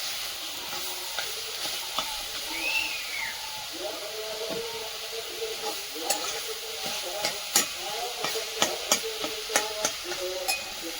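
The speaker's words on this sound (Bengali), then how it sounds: "শাক ভাজা দেখলেই লোভ লাগে, সেন্টটাও দারুণ উঠছে শাকে।" Leafy greens fry in a pan with a steady sizzle, while a utensil scrapes and stirs them in irregular clicks and scrapes throughout, close and moderately loud.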